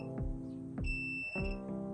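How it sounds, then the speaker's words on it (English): Steady electronic beeping tones from a continuity tester checking a switch on a 1979 Harley-Davidson Ironhead Sportster, over a low hum, with a few sharper clicks as the lever is compressed, close and fairly quiet. "you can hear the beeps."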